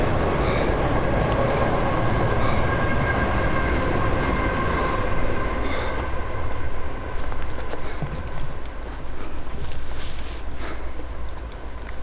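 A train rolls past close beside the tracks on a forest route, a loud, steady rumble and clatter of wagons that runs throughout with a faint high squeal, and no voices.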